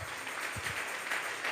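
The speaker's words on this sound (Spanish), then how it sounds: "Vamos a regalarle ofrenda de palmas al Dios de la gloria." A church congregation claps hands together in applause as an offering of praise, a dense, steady patter of many hands with no clear rhythm, fairly soft and alone.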